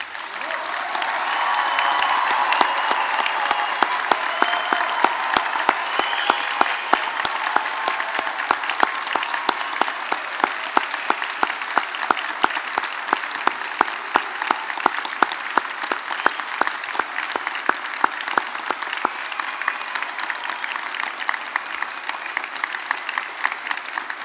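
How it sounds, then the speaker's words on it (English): A large audience at a university degree ceremony in Belfast applauds the graduates, sustained dense clapping that swells after a quieter start and carries on loudly and steadily for over twenty seconds in a big hall. "let's give this amazing group of people one last huge round of applause"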